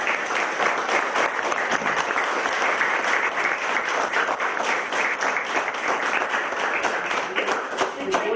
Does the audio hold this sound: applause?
yes